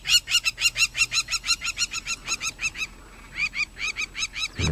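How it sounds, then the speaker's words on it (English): A crowned plover calling agitatedly at Ol Pejeta Conservancy in Kenya, a rapid, insistent run of loud, sharp repeated notes with a brief pause before resuming, close and clear. "it has this crowned plover going nuts."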